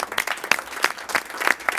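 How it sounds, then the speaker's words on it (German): Scattered clapping from a small group of people, a live-stream audience cheering a winner, with uneven bursts of claps rising and falling over a couple of seconds. "Nochmal riesen Applaus für den guten Mann."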